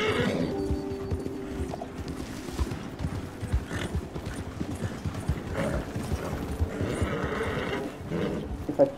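Horse in Red Dead Redemption 2, hooves clip-clopping in a steady gait with a whinny among game ambience, close and fairly loud.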